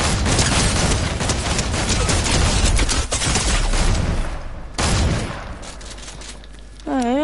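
Dense, rapid gunfire in the video game Fortnite keeps up an almost continuous crackle of shots for several seconds, easing off briefly, then returning before a rising tone near the end.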